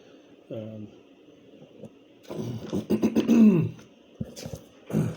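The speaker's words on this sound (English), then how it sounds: "I just keep clearing my throat" A person clears their throat a few times, close and fairly loud, with some rough vocal noises between short quiet gaps.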